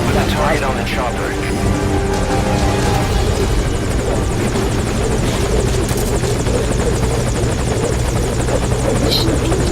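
Helicopter in the video game Metal Gear Solid, its loud steady rotor whir and engine drone filling the whole stretch, with a voice speaking over it.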